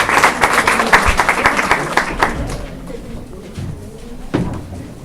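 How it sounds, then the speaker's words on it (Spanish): A crowd at an obstetrics conference claps in dense, lively applause that fades after about two seconds into quiet room noise, with a few scattered claps and a soft thump near the end. "Démosle un aplauso"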